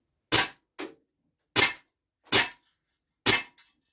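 Five sharp pops from a full-metal Cybergun Glock 17 Gen 4 airsoft pistol (1.7 J, 4.5 mm BBs), spaced irregularly with a quieter echo after some, close and clear against silence.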